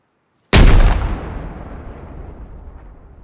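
A single frag grenade explosion in the video game ARMA, a sudden loud blast after a short silence, with a long rumbling decay that fades slowly.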